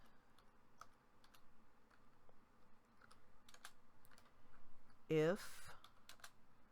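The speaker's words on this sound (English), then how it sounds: "I'm typing with one hand" Faint, irregular clicking of one-handed typing on a computer keyboard, quiet keystrokes scattered throughout, with a brief spoken word breaking in near the end.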